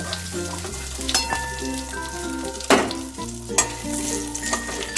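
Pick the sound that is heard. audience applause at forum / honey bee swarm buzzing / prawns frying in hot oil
prawns frying in hot oil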